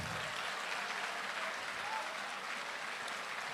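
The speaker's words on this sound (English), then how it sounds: "A round of applause." A crowd at a bank-sponsored tech fair applauds, quiet and somewhat distant, a continuous even patter of many hands with no distinct voices above it.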